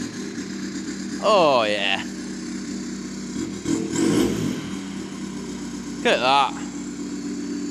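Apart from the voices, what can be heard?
Volkswagen Polo 1.6 TDI diesel straight pipe exhaust starting, revving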